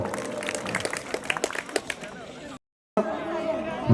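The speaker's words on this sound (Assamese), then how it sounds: "সকলোকে এবাৰ জোৰদাৰ তালি বজোৱাৰ কাৰণে অনুৰোধ জনাইছো" Audience applause at a welfare foundation's greeting ceremony in Dhupguri, a crowd's scattered clapping mixed with murmuring chatter, briefly cut off to silence before resuming amid voices.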